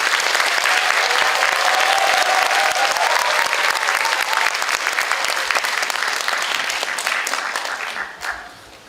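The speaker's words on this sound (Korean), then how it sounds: "박수와 환호로 맞이해 주시기 바랍니다" A conference-hall audience at the National Assembly Members' Office Building gives a speaker sustained, loud applause that holds steady for several seconds before tapering off at the end.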